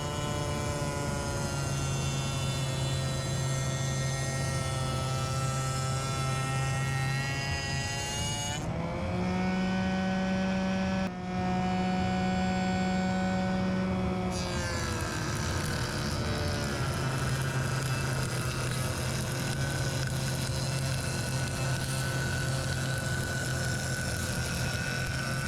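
Router fitted with a double-bearing flush trim bit cutting MDF against a template, a loud continuous high motor whine whose pitch shifts briefly mid-cut before settling again.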